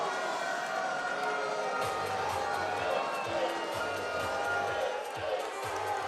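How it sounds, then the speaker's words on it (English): Spectators at a men's Super League volleyball Final Four match between London Giants and University of Nottingham in an indoor arena keep up a steady wash of crowd noise and jeering, with scattered thumps in the background. "And a lot of boos coming from the crowd."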